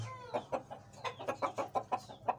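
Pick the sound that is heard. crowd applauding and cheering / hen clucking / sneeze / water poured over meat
hen clucking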